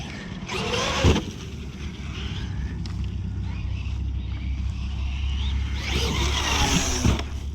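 A Traxxas Maxx RC truck outdoors, its electric motor whining up in two short bursts near the start and end over a steady low wind rumble.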